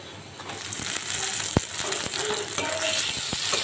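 Shrimp frying in a pan with lightly fried onion, a steady close sizzle with a sharp crack near the middle and scattered small pops and scrapes, no talking.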